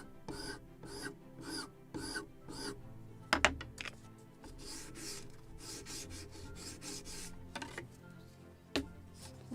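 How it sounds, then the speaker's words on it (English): A wooden plank for a model ship, the 1776 gunboat Philadelphia kit, is sanded by hand in short, rhythmic rasping strokes, close and crisp, first in even repeated passes and then in longer irregular rubs with a few sharp knocks, no voices. "So I'm sanding the entire plank, actually."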